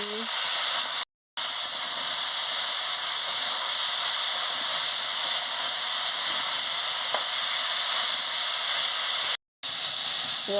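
Spices and drumstick stems sautéing in a pan for a Bengali drumstick chorchori, a loud, constant frying sizzle and hiss close by, interrupted by two short silent gaps.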